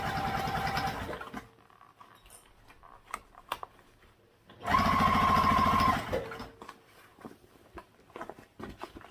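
A sewing machine stitching a main seam of a tote bag with a small stitch length: a steady mechanical whir in two bursts, a longer run at the start and a louder one midway, with quiet handling noises between.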